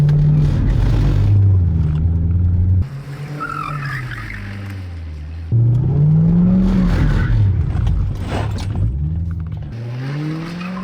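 A C5 Corvette does donuts with traction control on: loud, close tire squeal and skidding rises and falls in repeated bursts, while the engine revs surge and cut back as the car slides.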